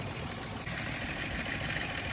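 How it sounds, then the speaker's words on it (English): A freshly started car engine with a suspected blown head gasket idles steadily, a dense, even mechanical hum and rumble with no talk. "Freshly started engine, not good."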